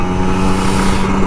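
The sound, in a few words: Kawasaki Ninja RR 150 motorcycle revving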